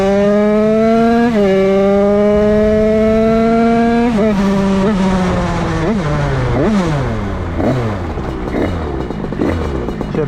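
A DRD 88cc Stage6 Big Racing moped engine screams at high revs, holding a steady pitch and then climbing through several sharp rev swings and gear changes, loud and close, with no talking.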